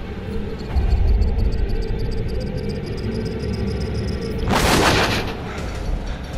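A single loud gunshot in the horror game Until Dawn: a sharp broadband blast about two-thirds through, over a steady background hum and a low thump earlier.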